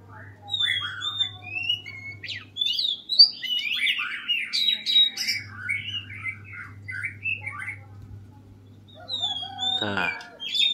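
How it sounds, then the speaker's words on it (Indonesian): An oriental magpie-robin sings beside a house, with varied whistled phrases, chirps and harsh squawks coming in bursts throughout, fairly close, over a low steady hum. "Suara burung kacer di samping rumah."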